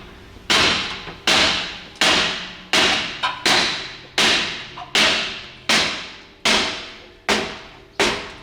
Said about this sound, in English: I suggested he just hits it with a sledgehammer.